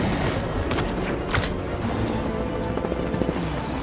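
A movie action scene with a helicopter and gunfire: a continuous loud rotor roar with a few sharp shot-like bursts early on and faint clattering toward the end.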